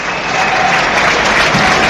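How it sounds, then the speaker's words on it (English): Loud, sustained applause rolls through a football stadium crowd at an EFL Cup match, dense and continuous throughout with no clear voices. "an appreciative round of applause for Latilat, whose night has lasted just 4 minutes"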